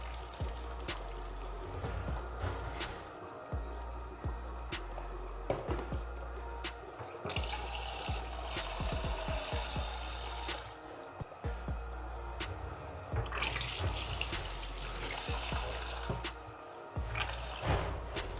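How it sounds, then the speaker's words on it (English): Water pours and trickles as a pot of boiled yam and assorted meat is drained, then refilled from a kitchen tap, with two louder bursts of gushing between quieter drips and clatter. "I'm just going to drain out the water from this and then put in a new water"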